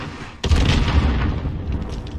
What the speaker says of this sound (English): Whoever's throwing grenades at that building, you're doing right.